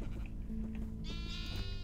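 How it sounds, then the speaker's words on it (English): Several sheep in Minecraft bleat in overlapping, wavering cries close by, one long steady bleat followed by a brighter chorus toward the end, with no talking. "these sheep are very, very noisy"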